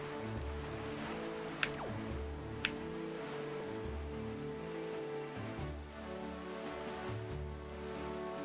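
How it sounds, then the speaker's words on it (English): Rain in Zelda Wind Waker HD falls as a steady faint hiss over low game music and ambience, with two sharp brief chimes early on. "Oh, it's raining."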